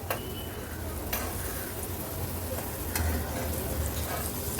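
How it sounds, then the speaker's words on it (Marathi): Raw banana slices shallow-frying in oil in a pan over medium flame, a steady close sizzle broken by a few sharp clicks as the slices are flipped one by one. "आता एक एक करून सर्व ह्या केळीचे काप आहेत ते पलटून घेऊया."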